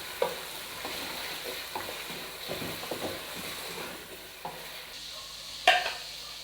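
Chicken pieces frying in hot oil in a pot while being prepared for biryani, with a steady sizzle and repeated scraping stirs, plus a sharper clatter near the end.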